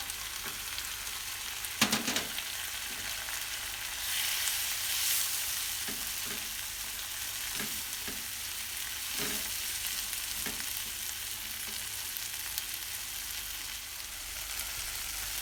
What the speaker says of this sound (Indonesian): Tumis bumbunya sampai matang, kemudian masukkan garam, kaldu bubuk, dan gula.